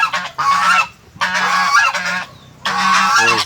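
Geese honk loudly and nearby on a farm where chickens are also kept. Three strong bursts of harsh honking are separated by brief pauses.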